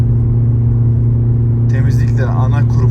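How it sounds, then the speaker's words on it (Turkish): Volkswagen Passat with a particulate filter problem cruising in third gear at 90 km/h: loud, steady low engine and road drone heard from inside the cabin, with a voice entering near the end. "Yolda hızımızı 3. vites 90 kilometrede sabitledik."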